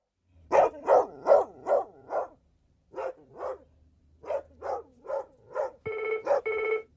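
A series of dog barks, a dozen or so in uneven bursts, gives way to a telephone ringing with two bright, buzzing electronic rings at the end, fairly close and clear.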